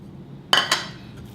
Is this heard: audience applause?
no